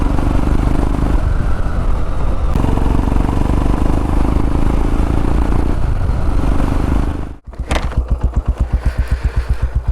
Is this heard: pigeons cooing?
no